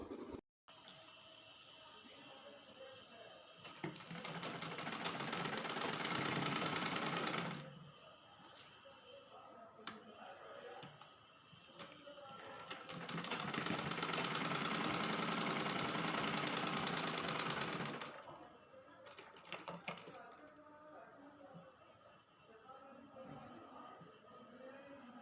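Sewing machine topstitching the joined neck and shoulder of a printed-fabric kurti: two long bursts of steady motor whir, near and fairly loud, separated by quieter handling sounds, with a few brief clicks near the end.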